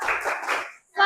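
A classroom of children performing a rhythmic clap routine, a short burst of patterned claps that stops briefly before a bright voiced chant cuts in at the end.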